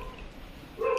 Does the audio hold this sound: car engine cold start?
no